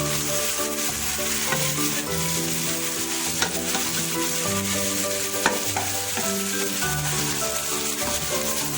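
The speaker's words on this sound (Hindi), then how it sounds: "थोड़ी देर मिक्स होगी, जैसे ये इसमें भून जाएगा, लहसुन अदरक साथ मिक्स हो जाएगा" Chicken frying with ginger garlic paste for Hyderabadi biryani, steady sizzling and frying with stirring scrapes, close and continuous, no voices.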